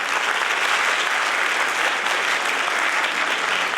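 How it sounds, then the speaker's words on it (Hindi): An audience at a World Heritage Week ceremony in Jammu applauds: a dense, steady wash of many hands clapping at once, loud and sustained throughout. "तालियां निरंतर बजती रहनी चाहिए।"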